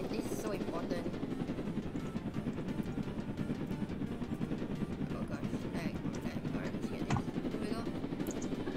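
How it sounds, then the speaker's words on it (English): A helicopter in the Roblox video game gives a steady, continuous rotor drone at moderate level, with people talking over it. "I hear the helicopter."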